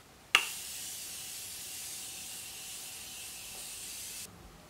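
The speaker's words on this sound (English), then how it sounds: "I am going to spray my face with the Morphe Setting Mist" Morphe Setting Mist is sprayed onto a face in one long, continuous hiss lasting about four seconds. It opens with a sharp burst and then stops abruptly, close and clear, with no speech.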